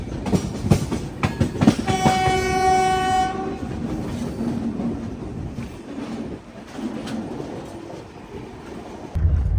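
The Visakhapatnam to Gandhidham Superfast Express 20803 rumbles along with a steady clatter of wheels on rails, while a loud, sustained horn blares for about two seconds early on before the running noise continues.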